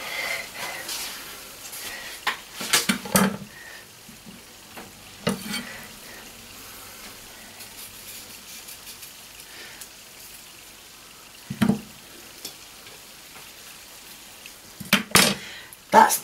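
Potatoes fry in a pan with a soft, continuous sizzle, broken by sharp clinks and scrapes of utensils stirring at irregular intervals.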